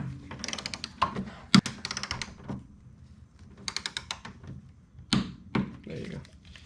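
Torque wrench tightening suspension bolts on a 1998 Honda Accord during ball joint and control arm replacement: scattered sharp metallic clicks and ratcheting creaks in short bursts, close by, with quieter gaps between.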